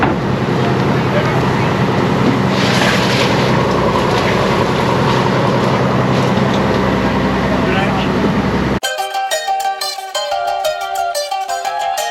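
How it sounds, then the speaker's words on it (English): A traditional dhow boat's steady, loud engine drones with rushing wind and water, voices talking over it, before the noise cuts abruptly to something different. "So now we've got this lovely little boat trip on a traditional dhow"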